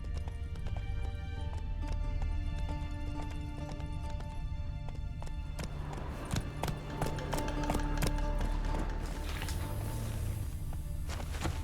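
Horse hooves in The Witcher 3 video game, a steady, fast clip-clop of galloping heard close and loud over a dense bed of game ambience, with no talking.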